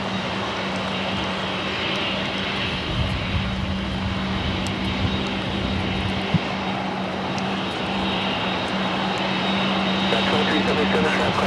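An airliner taxis and departs at LAX, heard as a loud, steady, unbroken jet roar that fills the whole stretch without a pause.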